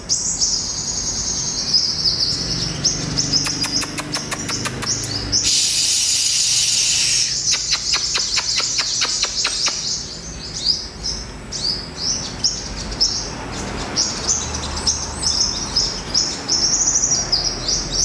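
A wild-caught sunbird calls at close range, giving high, thin chirps and rapid trilling bursts in irregular runs over a steady background buzz of insects.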